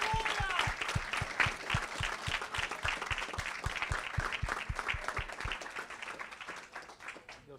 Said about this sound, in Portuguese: Vamos aplaudir o Senhor